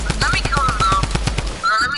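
A rapid burst of automatic gunfire from an enemy player in Fortnite, loud and close, with evenly spaced shots for about a second and a half before it cuts off. A voice speaks briefly over it.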